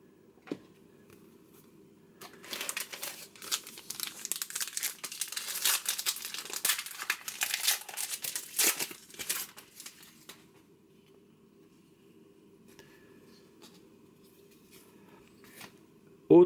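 Panini Score Ligue 1 2022-23 sticker packets from a 20-pack box are torn open, giving close, dense plastic crinkling and tearing in a busy burst lasting several seconds, then near silence with faint sounds of handling.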